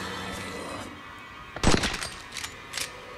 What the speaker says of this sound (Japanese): ハンドガンの発砲の音で気づかれたのか